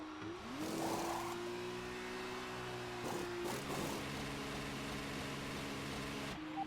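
F2 race cars launch from the start of the Abu Dhabi Grand Prix in a racing game, a steady high engine whine rising as the pack accelerates, with shifting tones and a brief gearchange-like break midway.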